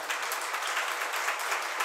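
A seated audience at a Jain sermon claps together, a faint, distant, even patter of many hands lasting under two seconds.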